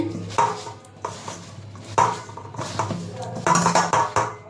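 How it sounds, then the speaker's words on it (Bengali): Grated cauliflower is worked into a batter of rice flour and gram flour by hand for pakoras, giving a few bursts of wet squelching and bowl clatter with short pauses between. "এবার আমি মেখে নেবো হালকা হাতে"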